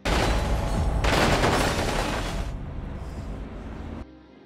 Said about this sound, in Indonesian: kelompok psikoplok ini melepaskan tembakan secara membabi buta